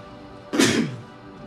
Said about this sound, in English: Oh, about to sneeze.